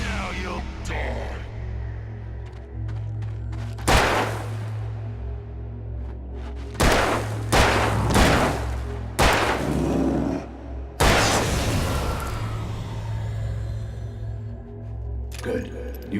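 Gunshots from the Alan Wake video game ring out as a few sharp, loud bursts spaced across a steady low background hum, with a voice speaking between them.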